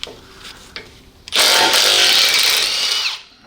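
A small Milwaukee impact driver works on a 14mm bolt on a Toyota Tacoma during CV axle replacement: a few faint clicks, then a loud, close burst of buzzing, hammering whir lasting under two seconds before winding down.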